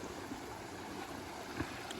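Quiet, steady rushing of a shallow stream at a rocky trail crossing in the mountains, a soft continuous wash with no talking.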